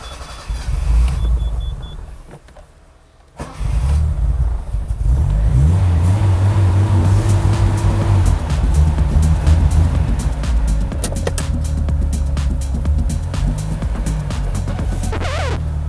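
A barn find project car with lowering springs and a manual clutch starts up and drives for the first time, its engine rumbling loud and close with rising revs after a brief quiet stretch, no talking.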